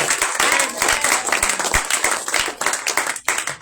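Congregation clapping during a Sunday church service, a dense, loud, continuous burst of many hands that carries on for several seconds before tapering off near the end.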